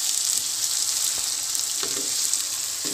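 Onions frying in a karahi, a steady bright sizzle of hot oil throughout, close and continuous, with a few faint stirring knocks and no talking.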